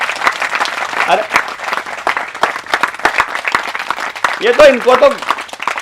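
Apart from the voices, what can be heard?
audience clapping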